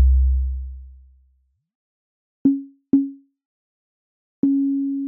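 Drum Computer's resonator engine producing a decaying tone: a deep low boom fading out, then three short pitched plucky tones, the last ringing longer, played alone at moderate loudness with silence between hits.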